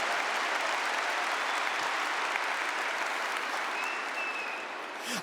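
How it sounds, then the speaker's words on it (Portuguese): A church congregation gives a long, steady round of applause, a dense and even clatter of many hands that fills the room without letup and fades slightly at the end. "Dá uma salva de palmas para a palavra do Senhor, bem forte"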